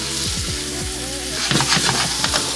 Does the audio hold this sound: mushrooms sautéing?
yes